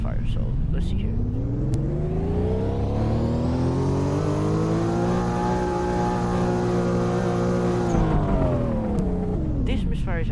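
A JDM car's engine, running with a misfire, roars steadily up close, its pitch climbing, holding high, then dropping back as it revs and settles, with a loud, continuous drone throughout.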